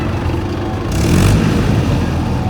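A tractor engine running steadily after being restarted at a worksite where a JCB is also in use, with a continuous loud mid-range rumble that swells slightly midway, close by and without speech.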